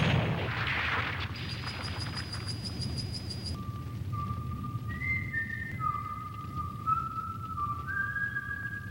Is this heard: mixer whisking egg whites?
no